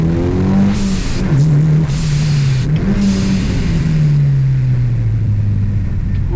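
Mitsubishi EVO 6 with a turbocharged 4G63 engine accelerating hard out of a corner, a loud sustained engine note rising and falling through revs with turbo whine, heard from inside the car.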